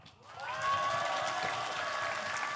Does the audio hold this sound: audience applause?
yes